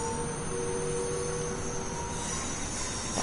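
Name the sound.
Class 390 train traction motors, Train Sim World 5 video game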